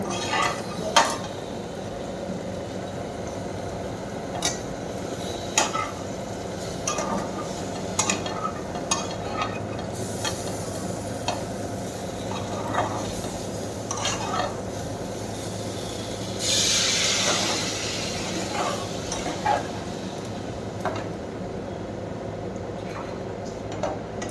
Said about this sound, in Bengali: এবার একটু জল দিয়ে কষিয়ে তারপর জল ঢেলে দেবো।